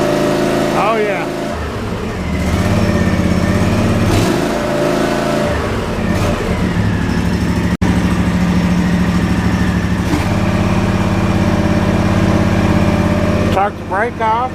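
An Ariens IKON X zero-turn mower with a 23 HP Kawasaki engine runs in a steady, fairly quiet drone that swells slightly after a couple of seconds and holds close, with brief voices near the start and end.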